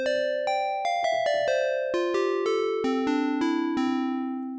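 A bright synthesizer glass bell patch plays a melodic sequence of about a dozen ringing, shimmering notes with crisp attacks and overlapping decays, loud and close, with no speech.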